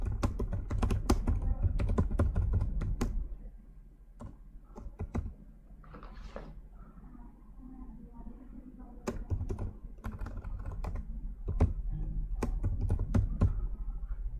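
Rapid clicking keystrokes on a computer keyboard come in quick bursts during trademark registration form entry, with a short lull midway before the tapping resumes, close and fairly loud with no speech.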